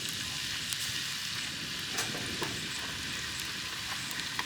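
Sofrito vegetables such as sweet peppers fry in hot oil for Cuban picadillo, a steady dense sizzle with scattered crackles and pops, close and constant, with no voices.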